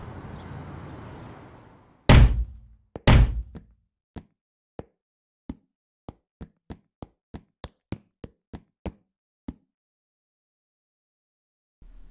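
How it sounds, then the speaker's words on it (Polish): Switching on the battery in the electrical cabinet of a SimRail EN57 electric train brings two heavy clunks, followed by a long run of sharp, evenly spaced relay clicks that slowly fade to silence. "Załącz baterię w szafie elektrycznej."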